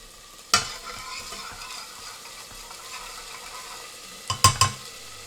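Garlic and ginger paste fries gently in a pan for a BIR-style pre-cooked lamb, a soft steady sizzle broken by a sharp clack at the start and a few stirring knocks near the end.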